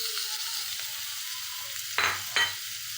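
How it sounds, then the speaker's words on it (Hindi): Ginger-garlic paste hitting hot oil with browned onions in a wok, giving a steady close frying sizzle that flares into two short louder bursts near the end as the paste lands and is stirred. "अब हम इसमें डालेंगे अदरक और लहसुन का पेस्ट"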